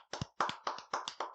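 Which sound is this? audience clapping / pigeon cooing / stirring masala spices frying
audience clapping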